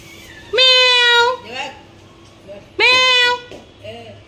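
A cat lets out two drawn-out meows a couple of seconds apart, with soft rustling and faint vocal sounds in between.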